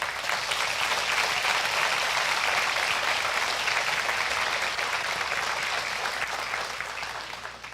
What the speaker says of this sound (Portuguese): Eu quero que vocês aplaudam esse ministério.